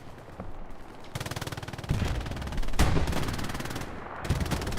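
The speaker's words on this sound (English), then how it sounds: "Up here to the top, we got more machine guns." Machine guns fire in a multiplayer battlefield shooter, sustained rapid bursts of clattering automatic fire, loud and close, with a heavier blast partway through and more gunfire continuing after it.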